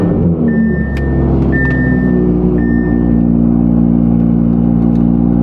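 A Ferrari's engine idles with a steady, even mechanical hum, broken by a few short bursts of higher revving.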